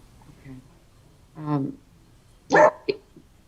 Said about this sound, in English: Sorry, barking dog.